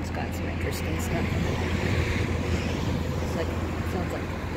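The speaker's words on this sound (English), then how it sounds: "Sounds like their boat's on, so maybe they're getting ready to go out." A low fishing boat engine rumbles steadily in the background in Pula harbor, mixed with wind and water noise and a voice talking over it.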